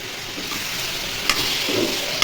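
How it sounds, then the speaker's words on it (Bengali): Tomatoes sautéing in a pan for a spicy dried-fish (sutki) curry give a steady, moderately loud sizzle with soft stirring scrapes and a couple of sharper clicks, no voices. "টমেটো কষানো হয়ে গেছে, আর কষিয়ে নিই।"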